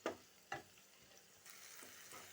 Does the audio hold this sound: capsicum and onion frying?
yes